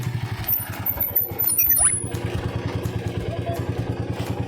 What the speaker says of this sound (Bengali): দেখো বন্ধুরা বর বাইক নিয়ে আসছে